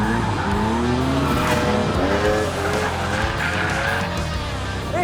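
The prototype TWR Supercat, a 650bhp V12-engined Jaguar XJS, skids with loud, sustained tire squeal over a revving engine, close and continuous.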